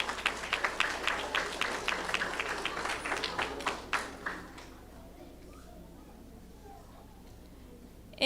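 An audience at a fourth-grade awards ceremony claps for award winners: a quick, lively round of applause that thins out and fades after about four seconds, leaving quiet room tone.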